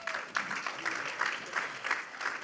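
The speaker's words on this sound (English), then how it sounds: "let's give a good, big round of applause for Reverend Dr." An audience applauds a speaker being introduced at a conference, with sustained clapping of steady density swelling and easing across the clip, fairly close and with no voices over it.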